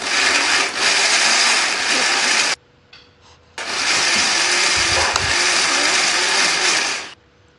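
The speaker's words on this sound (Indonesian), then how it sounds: "Boleh di blender kayak gini ataupun mau diulek ya boleh." A blender grinds shallots, garlic and chili into a cooking paste in two loud whirring bursts, each several seconds long and separated by a short pause with a faint clatter.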